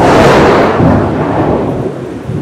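Heavy downpour roars steadily over a parked car, with a deep rumble of thunder rolling beneath the dense hiss of rain and no voices.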